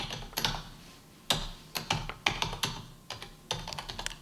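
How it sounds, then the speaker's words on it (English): Someone typing on a QWERTY computer keyboard, played on a TV panel show: irregular clusters of sharp, close key clicks with short pauses between bursts. "I'm going to play the sound of someone typing"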